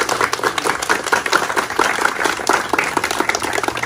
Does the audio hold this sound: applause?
yes